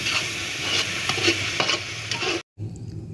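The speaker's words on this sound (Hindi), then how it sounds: "अभी जो हमने दूसरे मसाले का पेस्ट तैयार किया था ये इसमें डाल देंगे। 2 मिनट के लिए इसकी बुनाई कर लेंगे।" Masala paste stir-frying in ghee for Lahori beef paya, a steady loud sizzle with scraping stirs, cut off by a brief silence before the frying resumes.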